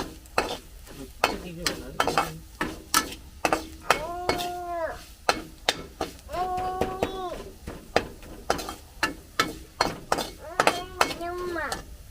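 Chili being stirred in a frying pan for goat brain fry: rhythmic scraping strokes and metallic clinks of a spatula over a low sizzle, with a voice heard at times.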